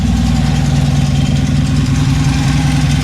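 A repaired 1983 Honda Magna V4 motorcycle engine runs at a steady idle, close and loud, with a rapid, even low-pitched pulsing throughout.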